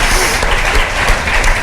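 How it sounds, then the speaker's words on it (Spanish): Loud, dense applause from a studio audience on a Spanish television talk show, a continuous wash of clapping close by that fills the whole short moment without speech. "Y a lo mejor un aplauso para María Gómez, por favor."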